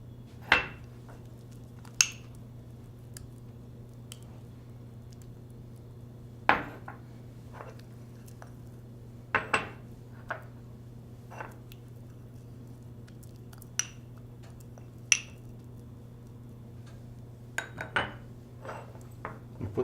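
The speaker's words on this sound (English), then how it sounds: "Do the same with the sugar, ensuring the inside of the ramekin is thoroughly coated." Sugar and butter being worked around the inside of a ramekin for a vanilla soufflé, giving sparse, light clicks and scrapes of porcelain at irregular intervals over a low steady hum in a quiet room.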